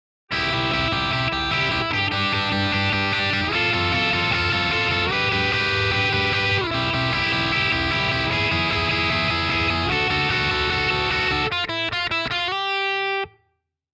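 Heavily distorted electric guitar plays high-register two-note chords strummed rapidly and continuously, loud and up close, ending in a few choppy stabs before cutting off.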